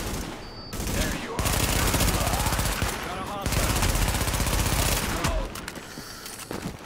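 Sustained automatic gunfire in The Division during a Russian Consulate attack, loud dense bursts of rapid shots with brief pauses near one and five seconds, no talking.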